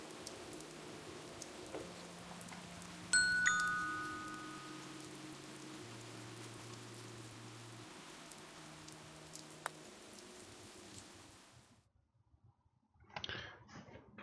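Rain falls in the online golf game Shot Online as a steady, soft hiss. Low game music tones and a few sharp chime-like effects sound over it, then the rain cuts out near the end before a short burst of sound.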